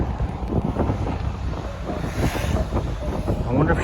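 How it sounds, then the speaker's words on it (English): Outdoor wind buffeting a microphone, a loud, continuous low rumble with gusty fluctuations filling the whole stretch, no other clear sounds over it. "The wind's coming at me."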